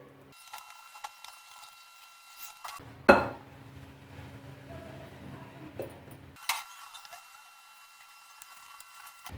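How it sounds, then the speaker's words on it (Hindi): Mango cake batter is mixed gently in a bowl, producing faint scraping and occasional soft clinks of a utensil against the rim, with quiet pauses in between. "अच्छे से मिक्स करेंगे और हल्के हाथ से हम इनको मिक्स करेंगे।"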